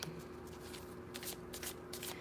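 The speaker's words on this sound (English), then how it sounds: "I was shuffling, but these cards are sticking in." A deck of sticky cards being shuffled by hand, quiet riffling bursts repeating in quick flurries close to the listener over a low steady hum.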